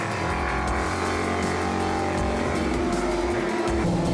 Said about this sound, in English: really keeping the pressure on Falconer, and the two cars are separated by less than a length as they round Clubhouse and then power down towards the S's.